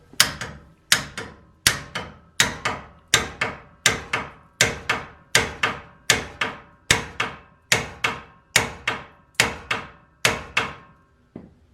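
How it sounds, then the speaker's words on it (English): A hammer strikes a pickle fork wedged into the upper ball joint of a 2009 GMC truck, roughly fifteen sharp metallic blows in a steady rhythm, each ringing briefly and decaying, with no talking. "once the pickle or the pickle fork's in here, just give her a couple"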